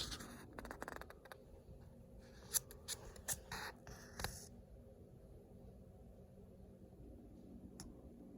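Paper business cards being cut with scissors, quiet close snips and scratchy rustles clustered in the first half, then mostly low room hiss.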